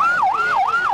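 Wailing ambulance siren rising and falling in a steady, smooth cycle about every third of a second, loud and close, with a faint road hum beneath and no voices.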